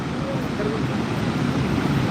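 Niagara Falls waterfall and the rapids at its base in autumn, a dense, steady roar of rushing water with wind buffeting the microphone, loud and continuous throughout.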